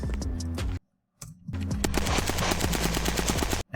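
Rapid pistol gunshots at a shooting range: fast bursts of loud, close cracks fired in quick succession, broken by a brief silent gap, then a longer, denser string of shots.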